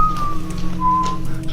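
A person whistles a short, simple tune near the microphone, a thin clear tone sliding between a few notes over a low steady background rumble, heard alone.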